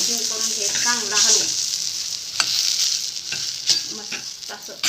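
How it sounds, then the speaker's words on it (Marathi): Milk being stirred into a modak mixture in a pan over low heat, wet sizzling and scraping strokes of a spoon, close and fairly loud with irregular bursts, no talking. "दूध घालून चांगलं एकदम हलवून घ्यायचं, एकजीव करून घ्यायचं चांगला हलवून"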